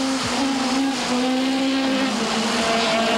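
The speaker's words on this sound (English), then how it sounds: "Lovely bark from that Renault engine of Robbie Head" A Renault rally car on a 1996 Midland Rally stage revs hard and loud, its engine note rising and holding in a raspy sustained howl, close and unbroken, with no talking.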